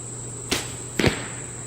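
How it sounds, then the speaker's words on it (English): Two quick sharp whooshing impacts land about half a second apart as compound-bow arrows strike a target, over a steady electrical hum and hiss. "I'm gonna finish shooting these arrows"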